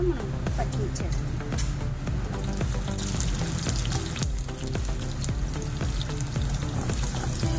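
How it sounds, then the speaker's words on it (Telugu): Lentils and green chillies sizzle in hot oil in a pan, a loud, steady, crackling fry that fills the whole stretch without a break. "ఇలాగా వేడిన తర్వాత ఈ పప్పు వేగిన తర్వాత మనం పచ్చిమిర్చి వేస్తాం"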